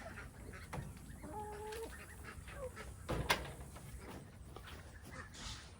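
Egg-laying hens cluck softly around a feeder as laying pellets are poured in, with repeated low clucks and a rooster-like call over steady outdoor background noise, no talk.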